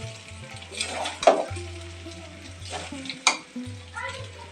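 Rice being stirred and turned over in a wok (kadai), with a few scraping, clattering strokes of the spoon against the pan at close range over a soft cooking hiss.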